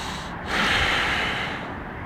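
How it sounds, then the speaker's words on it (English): A single deep, forceful breath, heavy and close, from a person holding a yoga pose outdoors beside the Golden Gate Bridge in San Francisco; the airy rush swells and fades over about two seconds with no talking. "Breathing"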